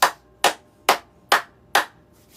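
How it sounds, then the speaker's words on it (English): Five sharp hand claps at an even, unhurried pace, each crisp and close with a quick decay, alone with no talking, during a slow activation and breathwork warm-up. "I'm going to clap and create some energy."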